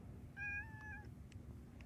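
A single short cat meow, clear but fairly quiet, rising and falling over a low background hum with nothing else prominent.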